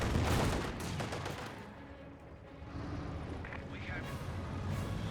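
Gunfire from a drive-by attack on a Panzergrenadier in Age of Empires IV, dense rattling bursts over a rumbling battlefield bed, with a voice talking over the action throughout.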